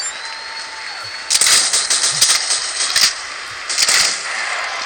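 Video game gunfire in a heist mission, a few quick clusters of sharp shots over a steady background hum, moderately loud and close, with no talk.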